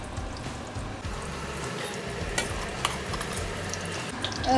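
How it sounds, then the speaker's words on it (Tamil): Eggplant pieces fry in hot oil with a soft, continuous sizzle and faint bubbling, close and fairly quiet, with occasional light stirring clicks. "எண்ணெய் கொதிச்சிட்டது இதை பொரிச்செடுப்போம்"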